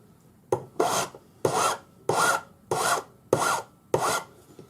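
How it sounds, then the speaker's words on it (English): A hand file rasps against a wire at a slight angle to form a taper, six steady strokes with brief pauses between, close and fairly loud, with no voices. "I'm not filing flat, I'm filing on a slight angle"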